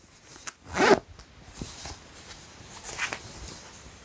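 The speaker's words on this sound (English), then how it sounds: "Use your YKK zipper." A YKK zipper on clothing is pulled once in a quick rasping zip, followed by faint rustling of fabric and handling noises.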